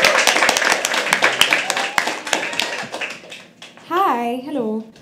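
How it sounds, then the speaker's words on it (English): Audience at a live poetry open mic clapping in a lively burst, individual claps clearly audible and thinning out after a few seconds, followed by a voice speaking into the microphone. "Keep clapping till she comes to show."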